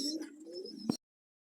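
Pigeons coo in a short, low warbling call rising and falling for under a second, close by, ending abruptly with a soft bump before silence.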